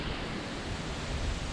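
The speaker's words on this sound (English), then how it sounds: "And now it's windy" Wind blows hard by a pond on the Appalachian Trail, a dense, steady roar of gusts buffeting the microphone with no voices.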